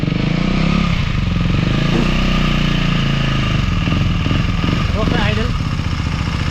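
A KTM motorcycle engine idling close by with a steady, even rumble and fine mechanical clatter, while people talk over it.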